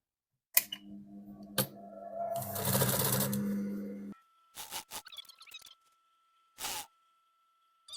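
A sewing machine stitches the inner seam of palazzo trousers, running in a close rapid whir for a few seconds, set among short clicks and handling knocks before and after in a quiet room.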